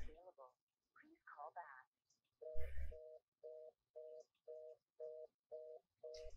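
A phone ringback tone in a video game repeats as a steady series of short even beeps, evenly spaced, with speech heard before and between them.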